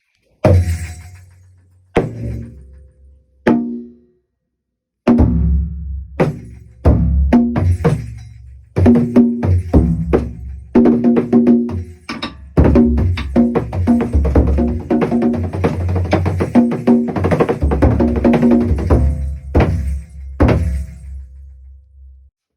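Several Japanese taiko drums are struck in combination: a few spaced opening hits, then a dense, driving pattern of sharp, resonant beats, loud and close.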